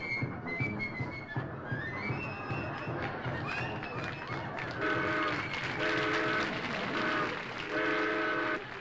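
A train sound effect on a live television comedy show: rumbling rail noise builds, then a loud, sustained chord-like train horn blasts several times over the final seconds.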